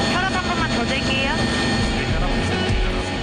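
A medical helicopter lifts off with a loud, continuous whine and rotor roar, steady throughout, while voices talk over the engine noise.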